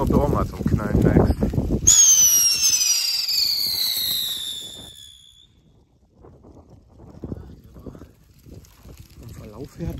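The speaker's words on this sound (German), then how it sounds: "So, Weco, mal gucken, ob du auch mal zum Knallen neigst." A Weco Sputnik firework launches with a loud whoosh and rising whistling squeal that fades over a few seconds, followed by quieter crackling and outdoor rustle, with voices talking at the start before ignition.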